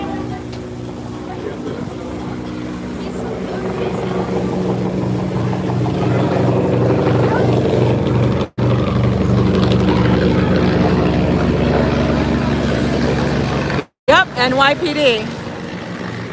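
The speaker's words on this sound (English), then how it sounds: "Look at that copter coming in low. That's a Coast Guard copter" A Coast Guard helicopter flies in low over the Staten Island Ferry, its rotor throb pulsing steadily and loudly beneath engine and wind noise, while people talk over it.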